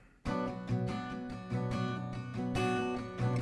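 Acoustic guitar chords strummed steadily in a rhythmic pattern, close and clear, with ringing strings and no voice.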